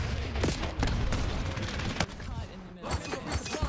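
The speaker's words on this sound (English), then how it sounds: "Flashbang incoming!" Flashbang grenade bursting in Black Ops 6, sharp loud bangs amid rapid gunfire and blasts, with a voice talking over the chaos.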